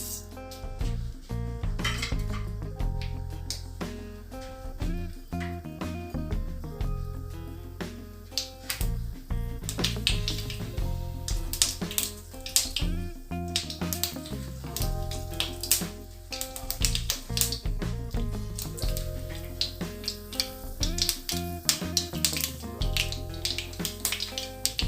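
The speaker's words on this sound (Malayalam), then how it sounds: "കടുക് പൊട്ടിക്കഴിഞ്ഞു." Mustard seeds splutter and pop in hot coconut oil in a pan, a long run of dense, irregular sharp crackles close by, fairly loud, with no talk.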